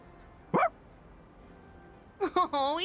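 A dog in the video game Persona 3 Reload gives a short bark, then after a pause two or three quick bright barks and yips up close, with a faint background hum.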